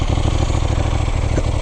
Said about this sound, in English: Let's start it up. Now this exhaust is really cool. It pops and gurgles